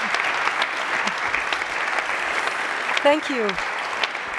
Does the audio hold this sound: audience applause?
yes